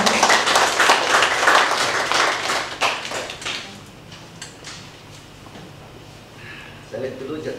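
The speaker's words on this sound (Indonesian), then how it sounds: "Kita beri tepuk tangan lagi untuk Pastor." Church course audience applauds a priest, a burst of indoor clapping that is loud at first, then thins and fades over several seconds.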